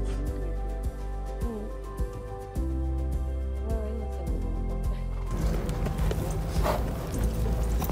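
Racehorse Tito Mo Cen moving on turf in the morning, hooves thudding in an irregular rhythm close by over a steady low rumble, with a noisier wind-like wash taking over near the end.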